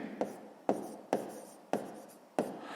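Pen or pencil writing by hand on paper while working a sixth-grade math exercise, five sharp strokes tapping down at a steady rhythm, each trailing into a soft scratchy drag, close and quiet with no voice.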